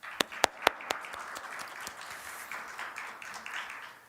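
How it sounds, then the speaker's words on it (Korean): A church congregation at a Sunday youth worship service claps to welcome new members, starting with a few loud separate claps that quickly blend into soft, scattered applause. "우리의 새 가족을 박수로 환영하겠습니다"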